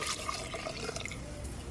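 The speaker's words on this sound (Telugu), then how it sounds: "ఇప్పుడు ఇంకా కొన్ని ఒక గ్లాసు నీళ్ళు పోసుకుందాము." Water from a glass poured into a pot of red gram dal (sappadi pappu) after the tempering, a brief steady splashing pour lasting under two seconds with no talk.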